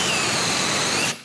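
Power drill boring a hole during a drop-in sink installation, a steady whirring motor with a thin whine that runs for about a second and then cuts off abruptly.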